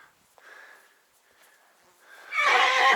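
A stallion on a mountain pasture lets out a loud, shrill whinny near the end, after quieter snorts and shuffling.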